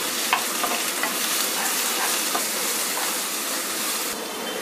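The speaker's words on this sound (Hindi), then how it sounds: "प्याज को 1 मिनट तक हम फ्राई करेंगे।" Coarsely chopped onions fry in hot vegetable oil for masala bhindi, a dense, continuous sizzle with faint crackles and soft stirring scrapes throughout.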